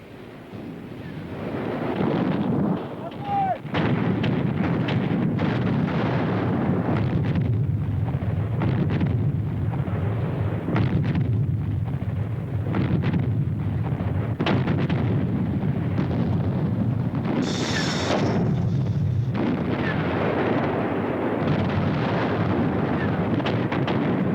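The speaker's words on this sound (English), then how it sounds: "General Konev orchestrated his formidable artillery" A Soviet artillery barrage near Moscow in wartime winter rolls on as a dense, continuous rumble of distant gunfire and booming blasts, with wind-like roar throughout and one sharper high burst partway through.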